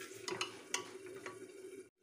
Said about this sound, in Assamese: চাউলখিনি অলপ সিজিলে মানে ফ্ৰাই কৰি ল'লোঁ